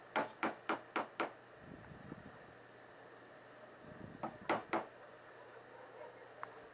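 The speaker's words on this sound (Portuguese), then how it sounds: "começar o corte com o formão." A hammer driving a wood chisel to start a cut while converting an old side bench vise into a horizontal vise: two quick runs of four or five sharp, close knocks, separated by a short pause filled with faint scraping.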